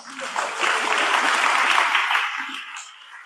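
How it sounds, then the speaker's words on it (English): Applause from a meeting audience for a woman, a dense crowd clapping that swells quickly, holds steady for a few seconds, then tapers off, with faint voices mixed in. "Give that lady a round of applause."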